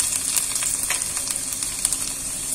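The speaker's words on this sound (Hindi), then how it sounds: "अब मैं इसमें ऐड कर दूंगी लहसुन" Garlic drops into hot oil already holding toasted cumin and mustard seeds, a close, loud, steady sizzle with small pops and crackles throughout.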